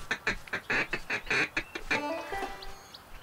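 A rapid series of honking goose calls in the Duck Dynasty video game, about a dozen short nasal bursts, then a few fainter, higher calls trailing off.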